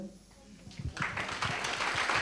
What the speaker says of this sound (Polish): Wielkie brawa dla Marcina i dla Rafała